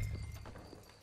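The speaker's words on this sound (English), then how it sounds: "Let's hitch your horses up ahead." Horse hooves clip-clop in Red Dead Redemption 2, a short run of soft, uneven hoofbeats over a low rumble, fading slightly through the brief moment.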